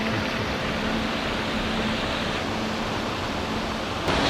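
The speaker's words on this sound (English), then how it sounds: "Such an impressive waterfall with no signal to arrive, no payment required." A waterfall in the forests of southern Costa Rica roars in a dense, unbroken wash of falling water, steady and fairly close, with no voices.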